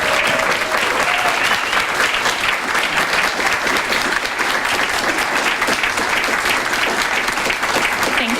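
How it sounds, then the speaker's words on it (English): Loud, dense applause from an audience at a student-of-the-month breakfast, with many hands clapping steadily and evenly through the whole stretch, no break and no talking over it. "A round of applause for you guys."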